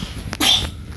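One sharp, close sneeze, preceded by a quick intake of breath, bursts out loudly and fades within half a second.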